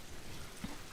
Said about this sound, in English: The rain is fantastic